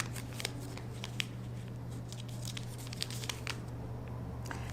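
Sheet of paper being folded and creased for an origami flapping bird, with soft crinkles and sharp creasing taps close by over a constant low hum, no talking.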